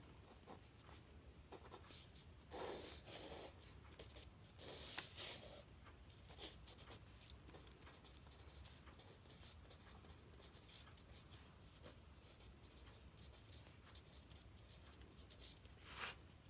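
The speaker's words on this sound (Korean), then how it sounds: "그럼 옆에 그림을 다시 그려볼게요" Pen or pencil strokes on paper while a diagram is redrawn by hand during a high-school math exam problem, with a run of scratchy writing bursts, quiet and close, and no talking.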